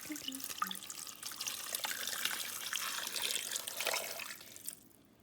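Tap water runs steadily into a Ninja Foodi pot as about four cups go in for a shrimp boil with chopped sausage, a close, continuous splashing pour that cuts off near the end.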